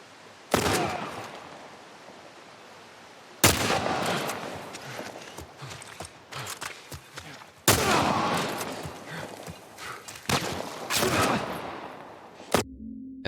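Pistol and rifle shots ring out in The Last of Us remake, several loud, sharp bursts separated by short pauses, each trailing off, with a voice talking between them.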